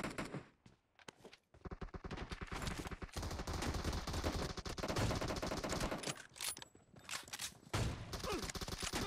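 Rapid bursts of automatic gunfire with single shots mixed in during a team deathmatch video game, loud and near, with brief pauses between volleys and faint footsteps.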